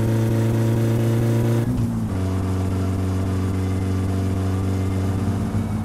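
A worn old diesel truck engine in the My Summer Car driving game, running loud and steady with a heavy low rumble, dipping briefly as it shifts before settling back into a sustained drone, with no talking over it.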